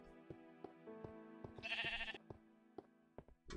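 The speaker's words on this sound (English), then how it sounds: "Getting that sheep that's up here for some reason." Blocky sheep in a Minecraft world give a short run of nasal game bleats, a few clipped calls spaced across a few seconds, close and fairly quiet, with no talking over them.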